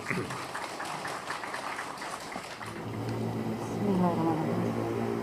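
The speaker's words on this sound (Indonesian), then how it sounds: "Tepuk tangan untuk Ibu Menteri." An audience at a Ministry of Social Affairs event in Bekasi applauds for the minister, a dense, fairly loud patter of many hands in the first half that gives way to ambient hall noise and a faint voice.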